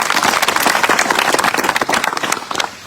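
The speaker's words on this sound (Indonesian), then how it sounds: "Tepuk tangan dulu semua." Dense applause from a seminar audience in a hall, many hands clapping steadily and loudly for nearly three seconds before tapering off at the end.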